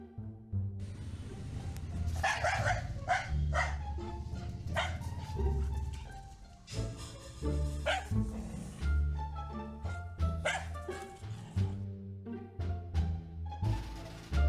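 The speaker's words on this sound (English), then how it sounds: "this stupid fucking dog doesn't shut the fuck up" A dog barks on and on without letup, repeated loud yaps and bow-wows filling the whole stretch over a busy, dense background.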